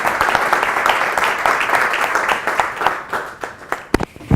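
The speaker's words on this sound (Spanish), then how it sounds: "agradecemos la participación de José Luis con un aplauso" Audience applause for a speaker at a university biotechnology employment conference in Elche, a steady dense clapping that thins out toward the end into a few scattered, sharper individual claps.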